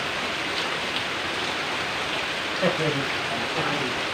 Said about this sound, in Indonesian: Ayo hujan langsung. Tapi lewat ini dulu. Lewat genteng dulu.